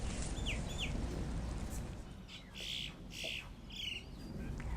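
Chickens in a deep-litter poultry coop, with several brief squawks and chirps over a low steady background hum, moderately close and fairly faint.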